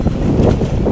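Strong wind buffets the microphone outdoors along the Pasig River Esplanade, a loud, continuous rumbling roar that lasts about a second.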